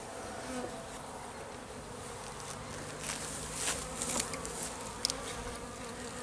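Honeybees buzzing around an opened weak hive during an inspection, a soft continuous hum with a few louder passes of individual bees near the end.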